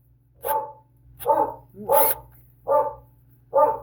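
A dog barks five times at a steady pace, loud and close, with quiet pauses between barks.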